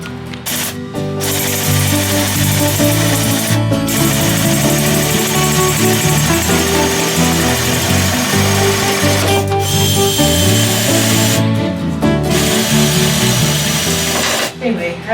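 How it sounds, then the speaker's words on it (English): A power drill bores holes through wooden wall studs in a shed being wired, with a steady, loud motor whine that runs almost the whole time, broken by a few short pauses between holes. "Now I'm going to be drilling my holes for all the wire to go through all these studs."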